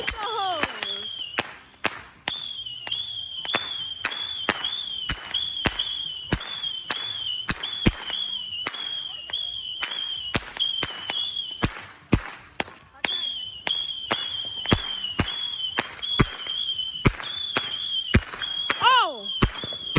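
Fourth of July fireworks going off in a rapid string of sharp bangs and crackles, with whistling rockets rising throughout, loud and close for the whole stretch.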